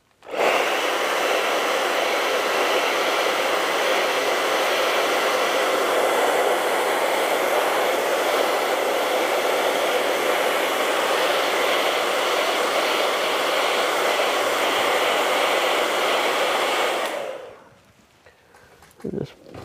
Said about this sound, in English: I got to dry this one more time to get my final highlights